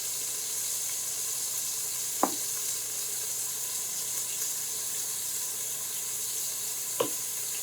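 Pork chops seasoned with salt and pepper searing in a pan, a steady moderate sizzle broken by two brief sharp clinks, with no one speaking.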